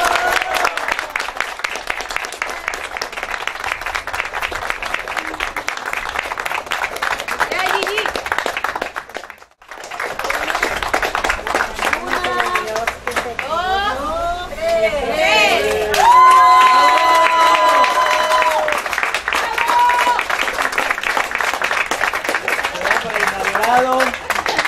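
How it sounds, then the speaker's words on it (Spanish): Crowd applause and cheering at a grill restaurant's inauguration, a long, dense roar of clapping with shouts and whistles, briefly dropping off before building again louder, while people talk and call out throughout. "vamos a darnos un gran aplauso a todos"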